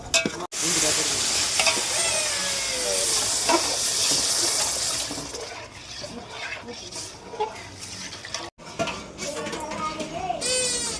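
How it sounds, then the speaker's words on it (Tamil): A large pot of kesari, a semolina sweet, is stirred at a village temple festival, giving a loud, continuous scraping and bubbling sizzle up close, with voices faintly in the background. "அக்கா வந்து கேசரி கிண்டின்னு இருக்காங்க"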